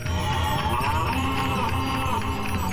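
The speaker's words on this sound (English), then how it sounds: "And then I hear a loud mooing in the darkness." A cow moos loudly in a long, drawn-out low call against a steady noisy background.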